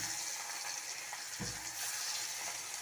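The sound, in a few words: katla fish frying in a pan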